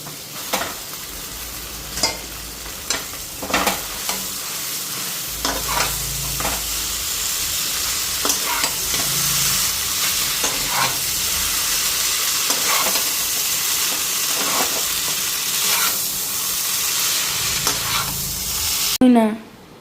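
Maggi noodles stirred and fried in a pan with spices, a constant loud sizzle and hiss, with a spatula scraping and tapping against the pan at irregular intervals throughout.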